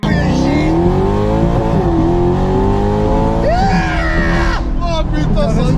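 Racing car engine revving hard in a GP Explorer race, rising and falling whine with tire noise, loud and close, under excited talk.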